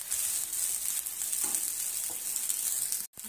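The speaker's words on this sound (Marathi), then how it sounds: "आता राईस आपला चांगल्या प्रकारे परतून झाला आहे" Rice for South Indian lemon rice is stir-fried in a pan, giving a steady, even sizzle that runs throughout, with no voices.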